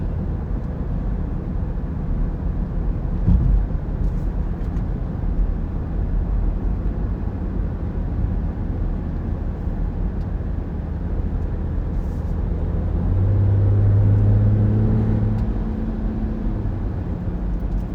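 A diesel car runs during a race at the Green Grand Prix at Watkins Glen in 2023, heard as a steady, dense engine and road drone that swells louder for a few seconds near the end.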